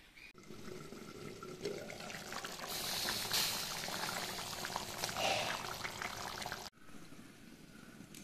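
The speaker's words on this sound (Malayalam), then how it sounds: "ആവശ്യത്തിന് വെള്ളം ഒഴിച്ച് കൊടുത്തതിന് ശേഷം മൂടി വെച്ചിട്ട് നന്നായിട്ട് തിളപ്പിച്ചെടുക്കാം" Sundakkai tamarind curry boiling in a covered pot, a steady bubbling, pouring-like wash of liquid that swells and then cuts off abruptly near the end, leaving quieter simmering.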